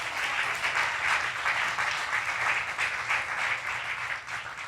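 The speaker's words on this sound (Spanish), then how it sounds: "Dele el aplauso al Señor porque la gloria es para la honra," A church congregation applauding during a worship service, a dense wash of many hands clapping continuously and evenly for several seconds, with no voice on top.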